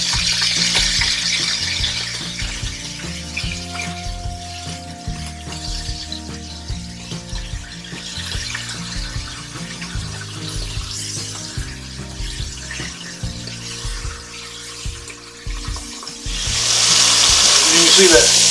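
Ham sizzles and pops in a hot pan for an Appalachian breakfast, a continuous frying hiss with scraping and stirring sounds, swelling louder near the end.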